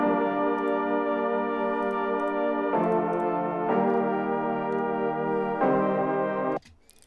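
A sustained synthesizer pad holds rich, steady chords that shift a few times before cutting off abruptly near the end.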